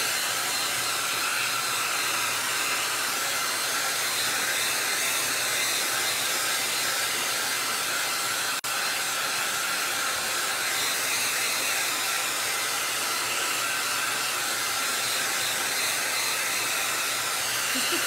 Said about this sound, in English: Using my hair dryer.